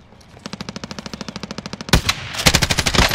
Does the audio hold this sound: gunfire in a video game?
yes